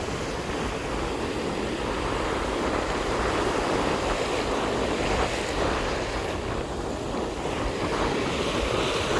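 Big ocean waves and strong wind at a seaside fishing spot make a dense, continuous roar of surf and buffeting wind noise on the microphone, steady and loud throughout with no voices.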